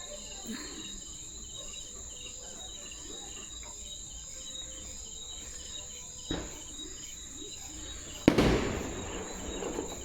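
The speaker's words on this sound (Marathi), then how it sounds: "फटाके वाजवितय आहे कोणतरी" Firecrackers go off outside at night: a faint pop and then one sharper, distant bang ring out over a constant chorus of chirping crickets.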